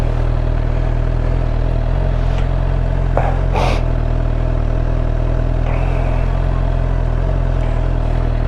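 A 2016 Suzuki GSX-R750 L6 motorcycle runs with a steady, close engine drone and constant wind rumble, with a couple of brief higher bursts breaking through midway.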